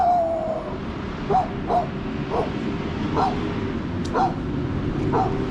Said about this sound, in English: You better get a stronger bark than that to intimidate me.